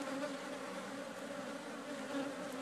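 Dense, steady buzzing of a large honeybee colony swarming around a big, strong hive, a continuous close drone with no breaks or voices.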